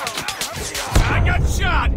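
A single sharp gunshot from Call of Duty Mobile cracks near the one-second mark, following game voice and effects, and low rumbling noise continues after it.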